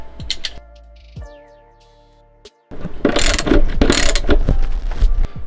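Nuts are tightened on a double seat swivel base with a ratchet, giving rapid clicking pawl bursts and metallic mechanical whirs, up close and loud, with a brief quiet gap before a harsher, denser stretch of ratcheting.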